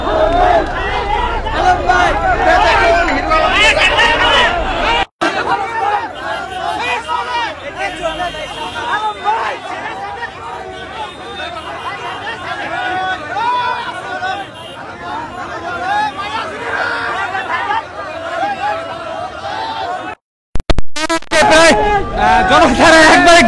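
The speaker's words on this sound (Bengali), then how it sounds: "হিরো আলমকে প্রিয় স্লোগান দিচ্ছে" A dense crowd of supporters chants slogans for Hero Alom, many voices shouting together in loud rhythmic bursts over constant close babble, with a brief drop-out near the end.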